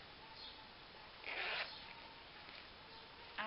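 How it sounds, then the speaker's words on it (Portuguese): A small fabric pouch, part of a giveaway gift set, has its zipper drawn open in one short rasping pull, close and fairly clear over a quiet room, followed by a faint click near the end. "Tem um zíper."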